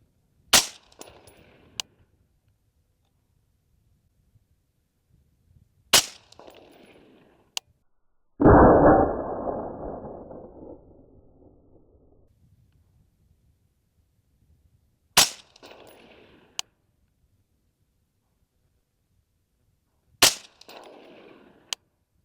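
Rifle shots from an LWRC M6A3 rifle firing Federal 69 grain Sierra MatchKing .223 rounds: sharp cracks spaced several seconds apart, plus one heavier blast with a long ringing decay, with no talk.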